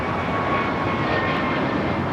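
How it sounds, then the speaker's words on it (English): An American Airlines A321neo jet takes off at LAX, its engines giving a steady, broad roar that holds at an even, fairly loud level throughout, with no voices. "This is American Airlines 813 taking off to Philadelphia on the A321neo."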